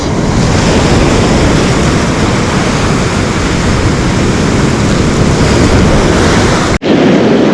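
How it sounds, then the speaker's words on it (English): Rough Pacific Ocean surf at Pacific Beach in San Francisco roars as a loud, continuous wash of breaking waves and wind noise. A brief dropout comes near the end. "water's pretty rough when you're snagging sand crabs"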